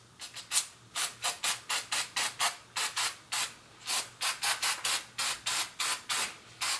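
Aircraft paint remover sprayed from an aerosol can onto a valve cover: a close, steady series of about twenty short hissing bursts in quick rhythm, separated by brief pauses.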